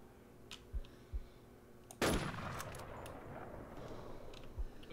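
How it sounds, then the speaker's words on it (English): Gunfire in a video game: a sharp, loud shot bursts out midway and rings off into a decaying tail, with a few faint thumps before and after. "Who's shooting? That was me, that was me."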